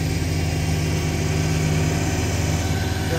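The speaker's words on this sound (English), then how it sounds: "The old snow blower." An old snow blower engine runs steadily at a near idle, a continuous low mechanical drone with constant vibration and no break throughout.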